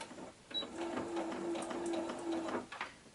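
A home sewing machine chain piecing patchwork fabric with a quarter-inch foot, running in a steady rhythmic whir with short bursts and pauses, close and moderately loud, with no talking.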